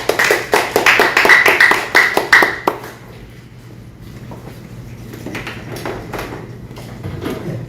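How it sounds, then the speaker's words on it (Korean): A press conference audience breaks into dense applause for about two and a half seconds, then it thins to scattered claps over a low hum and a quiet room. "큰 박수 부탁드립니다."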